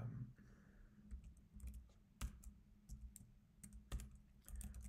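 Quiet, close keystrokes tapped on a computer keyboard while typing code, coming in short irregular runs with brief pauses and no voice.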